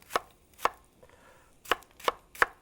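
A knife chops onion coarsely on a cutting board, five crisp, close thuds in an uneven rhythm with short pauses between them and no talking.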